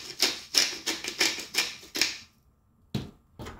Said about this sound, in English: And I whisk this.